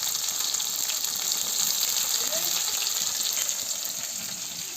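Tomatoes sautéing in a spiced oil tempering in a pan over a wood-fired clay stove, giving a steady close hiss of frying that holds evenly throughout and fades slightly at the end.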